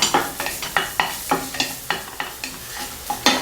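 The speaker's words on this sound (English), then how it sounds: "Saute the garlic over low heat until it turns aromatic." Garlic sautéing in hot oil in a pan over low heat, with a soft sizzle under rapid, repeated scraping and stirring strokes, close and fairly loud.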